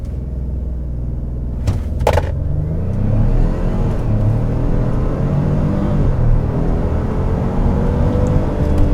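A 2021 Ford F-150 Hybrid pickup launching hard in sport mode: a door thud, then a loud, rising engine roar with climbing revs and steady rumbling acceleration that holds to the end.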